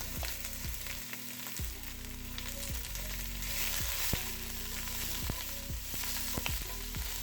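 Garlic, onion and shrimp stir-fry in a hot pan for chopsuey, a steady close sizzle with periodic scraping strokes of a utensil, no voices.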